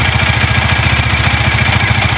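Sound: Bajaj Dominar motorcycle engine running to heat up

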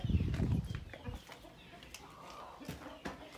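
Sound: broody hens clucking

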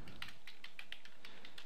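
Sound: typing a command on a computer keyboard

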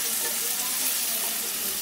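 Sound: chopped onions frying in a pan

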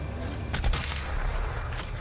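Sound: video game gunshot

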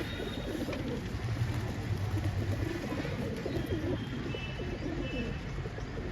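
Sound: pigeon cooing

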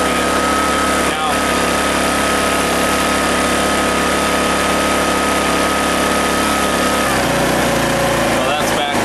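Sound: Honeywell HW2000i generator running at 4500 RPM, economy mode off

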